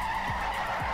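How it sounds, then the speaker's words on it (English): A car doing a burnout in a drift game gives a loud, continuous skidding roar of tires and engine with no pause. "this car is just doing a burnout in the background"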